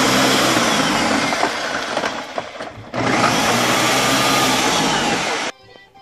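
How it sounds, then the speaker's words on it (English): A blender whirs at full speed through a frozen Shakeology drink, a loud continuous grinding roar with a brief dip near the middle before the motor cuts off abruptly near the end. "The blender has finished blending up our Shakeology 1 minute and 10 seconds."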